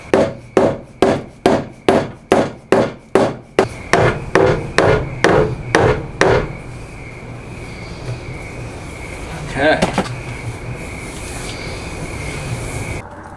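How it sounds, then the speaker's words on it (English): A hammer beats dents out of a Toyota Tacoma metal body panel with about fifteen sharp, evenly spaced strikes, followed by softer rubbing and scraping at close range. "I thought I was going to have to use the dent puller on this, but that's just hammering right back to where it should be"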